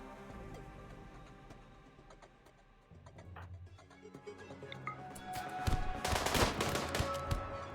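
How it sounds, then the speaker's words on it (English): Heavy SMG gunfire in the RimWorld video game, rapid bursts building into a loud, chaotic stretch of shots with busy game sounds layered underneath. "Did you see that heavy SMG just dot dot dot?"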